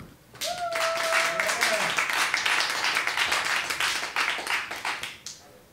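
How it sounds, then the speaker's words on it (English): Warm audience applause greeting a trumpet player at a music event, dense continuous clapping across the whole stretch, with a brief whistle-like tone near the start, then tapering at the end. "Please give him a warm applause."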